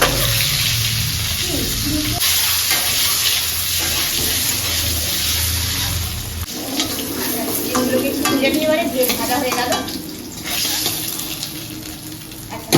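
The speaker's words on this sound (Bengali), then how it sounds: "ডিম এটা ভাজা হচ্ছে" Eggs sizzle in a pan with bursts of stirring, while running water and some background voices blend in partway through.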